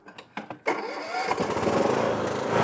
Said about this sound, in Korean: 늘 바쁘게 움직이는 그가 작은 트랙터에 올라타는데요